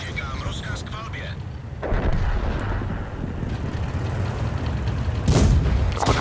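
Tank cannon fire in World of Tanks, with a Soviet MS-1 tank nearby: a deep blast boom with a rumbling tail and a second loud crack near the end, over steady engine and wind noise, after a brief voice.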